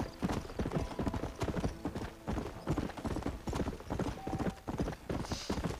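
Horse hooves gallop in the Red Dead Redemption video game, a fast, steady drumming of clip-clops, close and prominent throughout, with a faint whinny.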